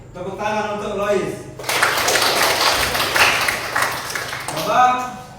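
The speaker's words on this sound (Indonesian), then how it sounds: "Baik, tepuk tangan untuk Lois." Students in a classroom clap together for a classmate in a short, loud burst of hand claps. A voice speaks before the clapping, and speech returns as it fades.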